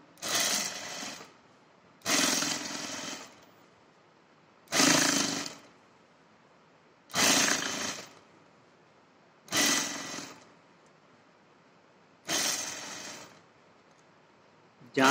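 A sewing machine stitches a waistcoat lining in six short, evenly spaced bursts of rapid mechanical whirring, each about a second long and separated by quiet pauses, close and moderately loud.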